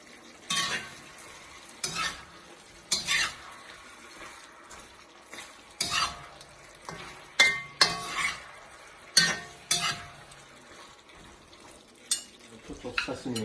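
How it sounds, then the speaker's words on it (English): Braised pork belly sauce with sugar caramelizing in a pot, sizzling steadily beneath repeated scraping and stirring strokes from a utensil, with occasional clinks of metal against the pan. "You can see the sauce is being caramelized,"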